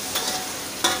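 Beef and spices stir-fry in a pot for yakhni pulao, giving a steady sizzle with two brief louder scraping stirs, close and alone.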